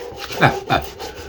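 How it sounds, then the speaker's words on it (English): A hand file rasps across the wooden handle of an Opinel No. 9 knife, two close, firm scraping strokes followed by lighter rubbing, with no power tools involved. "Here I'm just working on the wood. I don't have any power tools there, so everything's by hand. I spend a lot of time filing."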